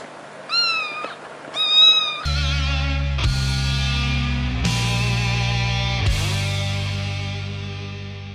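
A cat gives two short, rising meows close by, followed by a sustained tonal passage of synth-like notes that fill the rest.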